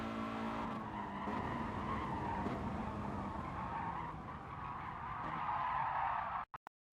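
A car skids under very late braking in Gran Turismo Sport. A loud, sustained tire squeal runs with the racing engine for several seconds, then cuts off abruptly.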